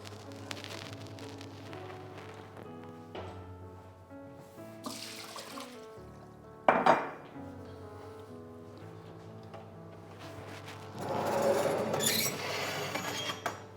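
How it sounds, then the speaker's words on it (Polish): In a home kitchen, a pan of water is taken out of an oven used to proof croissant dough, with faint sloshing, clinks and clattering over background music. "Ale zanim wyciągnę rogale, wyciągnę wodę."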